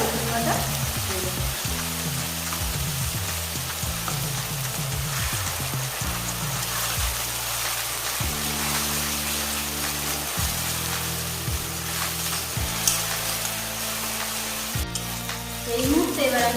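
Onions browning in a pan with ginger and garlic paste added, a loud continuous sizzle like rain with occasional stirring scrapes, close, under a low intermittent hum.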